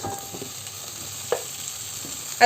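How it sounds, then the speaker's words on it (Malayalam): Chopped eggplant stirred into a frying masala in a pan for an eggplant curry, a soft, fairly faint sizzle with a few scraping stir sounds and a sharper clatter near the end. "ഈ സമയത്ത് നമുക്ക് ഇതിലേക്ക് അരിഞ്ഞു വെച്ചിരിക്കുന്ന വഴുതനങ്ങ ചേർത്ത് കൊടുക്കാം"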